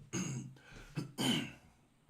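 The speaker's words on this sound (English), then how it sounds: "I do have a very irritating cough" Two or three rough, throaty coughs with short pauses between them, close and fairly loud, with no other sound around them.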